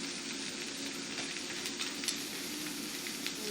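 Colourful vegetables sizzle steadily in a hot frying pan, a continuous crackling hiss with occasional louder pops, no talking.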